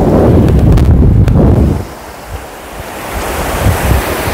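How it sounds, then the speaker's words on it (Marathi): Ocean surf on a Mumbai beach roars loudly and close with heavy wind buffeting the microphone, then eases to a quieter rushing wash of waves, with no voices. "पाहू शकता सुंदर अशा लाटा येतात आहे।"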